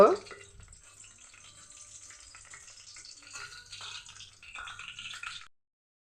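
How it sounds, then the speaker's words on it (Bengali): Whole bay leaf, cardamom, cumin and cloves sizzle in hot oil, a soft, even crackling hiss, faint and close, that swells slightly near the end before cutting off abruptly. "এখন আমি তেজপাতাটা দিয়ে দিচ্ছি দিয়ে দিচ্ছি এলাচ আস্ত জিরে দুটো লবঙ্গ"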